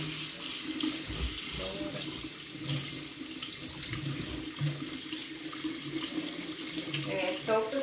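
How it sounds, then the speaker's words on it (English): Hot water runs from a kitchen tap to rinse a Brita pitcher filter. The stream is close and steady and splashes continuously throughout. "I still like to rinse this out a little bit with some hot water."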